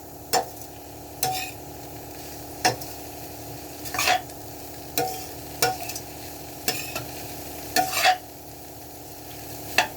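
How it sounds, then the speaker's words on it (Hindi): Cauliflower stir-fries with spices over a high gas flame. A steady sizzle runs under regular scrapes and clinks of a spatula against the pan, roughly one stroke every second or so, with no voices. "इसको थोड़ी देर हमने गैस की आंच को तेज करके इसको थोड़ी देर के लिए भूनना है।"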